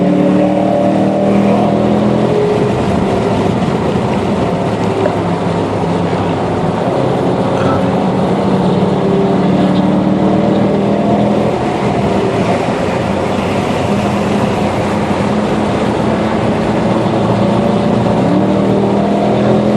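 A steady, loud engine roar from a Dodge Charger R/T and Mustang GT350 accelerating on a race track drones throughout, layered motor noise rising and holding without pause, with no voices.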